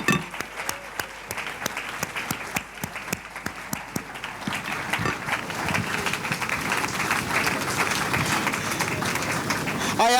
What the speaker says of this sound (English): can I ask you to clap much louder than you're doing